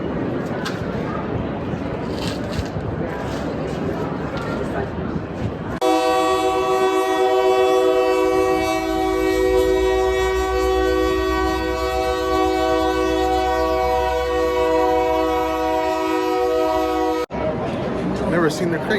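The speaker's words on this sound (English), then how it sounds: "Never seen the train come by through here." A train rolls past near a sports game, its horn blaring in a long, loud, sustained chord for about ten seconds, with crowd chatter before and after and a dog barking.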